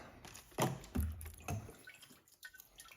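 Fuel pours out of the tank of a Ski-Doo Summit 600R snowmobile, heard as a few close, irregular splashing and dripping bursts that then fade to a quieter trickle.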